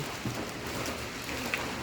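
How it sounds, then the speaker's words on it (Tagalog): Steady rain from a typhoon patters outside, a dense even hiss with occasional louder drops, no voices. "Ulan sa labas kasi may bagyo"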